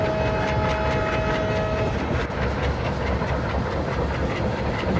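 A WDM3D diesel locomotive in an Indian train simulator game runs steadily with a continuous heavy rumble and rhythmic wheel clatter, plus a brief tonal horn-like note early on.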